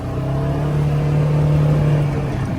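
A farm tractor engine runs at a steady idle nearby, a loud, even low drone with a constant hum and no change in pace.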